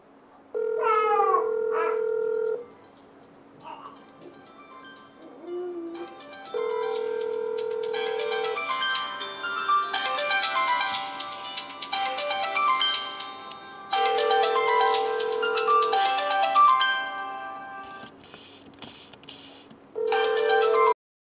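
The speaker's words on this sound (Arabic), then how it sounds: "الآن كما تسمع سوف تسمع رنين" A phone ringback tone from a caller ID changer app repeats in long steady bursts with pauses between them, mixed with electronic chimes and tones; no one speaks.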